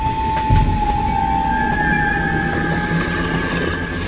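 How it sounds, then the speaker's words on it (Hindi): A cartoon train rolls along with a loud steady rumble, a long whistle-like tone sliding across, and faint rhythmic clatter, close and continuous. "ट्रेन को जल्दी रोको"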